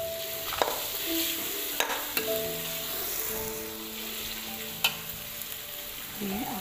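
Tomatoes go into a pan of jengkol and green chili, stir-frying with a soft steady sizzle, sharp utensil knocks against the pan now and then, and faint background hum.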